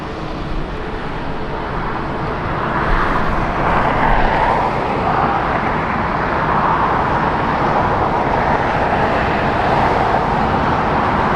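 A JetBlue airliner passes at Los Angeles International Airport, a steady broadband jet roar that swells after a few seconds and holds loud and sustained, with no talk over it.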